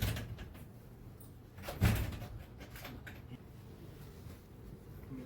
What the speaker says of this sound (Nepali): यो ढोका ल म तल गरिहाल्छु